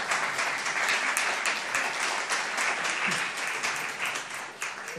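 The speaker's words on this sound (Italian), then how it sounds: "potete applaudire ogni tanto" An audience claps at an Italian book presentation, a steady, fairly close round of applause with distinct individual hand claps standing out, holding evenly for the whole stretch.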